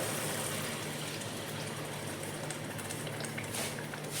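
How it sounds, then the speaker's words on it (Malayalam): Half a cup of water gushes steadily into a pan of brinjal thokku curry simmering with spice powders and tamarind water, a continuous close pour with no talk. "ഇതിലേക്ക് ഒരു അരക്കപ്പ് വെള്ളമോടെ"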